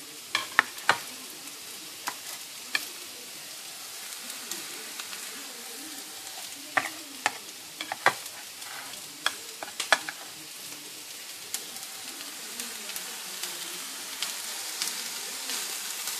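Prawns frying in a pan with a spoonful of crushed ginger and garlic give a steady, moderate sizzle, broken by sharp spatula clicks and scrapes at irregular moments throughout.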